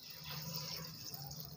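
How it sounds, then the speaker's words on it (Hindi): Water from a metal pot pours steadily into a cooking pan of lentils and bathua greens, a soft continuous splashing trickle up close with no talking. "ये एक लोटा पानी इसमें डालूँगी"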